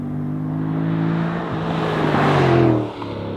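A 2014 Chevrolet Camaro Z28 accelerates on a race track at Gingerman in southern Michigan, its engine note loud, close and steady, rising in pitch as it revs before a brief dip near the end.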